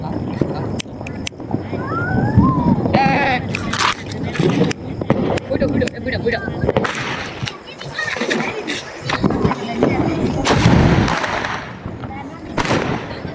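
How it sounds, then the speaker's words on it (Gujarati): Firecracker bombs go off during Diwali in a string of sharp, loud bangs at irregular intervals, with people talking and shouting between the blasts. "સિંધરિયા બોમ્બ આવી ગયા છે."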